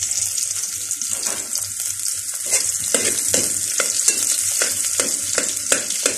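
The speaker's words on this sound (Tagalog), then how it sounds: "Pa-brown natin konti ang kanyang bawang." Garlic fries in a pan while being stirred, a steady close sizzle punctuated by regular scraping strokes of a utensil against the pan.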